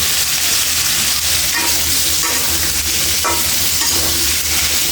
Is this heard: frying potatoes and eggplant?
yes